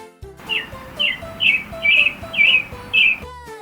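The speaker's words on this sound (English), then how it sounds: "It's a chirpy little bird." A small bird chirps six times in an evenly spaced series of bright, close, clear calls, each short and piercing, standing out over a quiet background.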